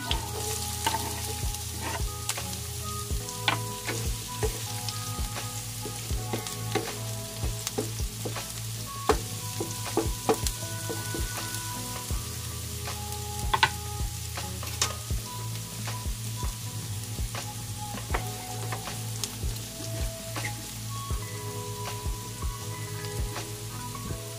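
Garlic frying in hot oil for squid adobo: a steady, loud, dense sizzle with crackling pops throughout and intermittent scraping stirs of a utensil in the pan, close up with no talking.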